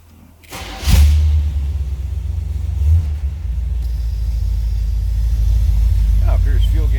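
A 1976 Chevrolet Corvette coupe engine cranks and catches, revs up once, then settles into a steady, deep rumbling idle close by, with a brief thump early on.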